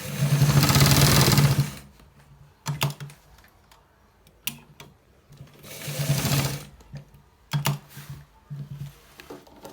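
Close, loud bursts from a sewing machine stitching a designer shirt collar, one long whirring run, then short stops and starts with clicks and taps between, and a second long run later.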